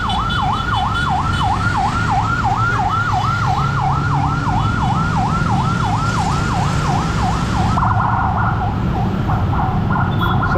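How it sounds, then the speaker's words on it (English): An ambulance siren wails loudly in a steady rising and falling pattern over dense street traffic noise in Bali, staying prominent throughout before the tone shifts near the end as it passes. "Got an ambulance coming through."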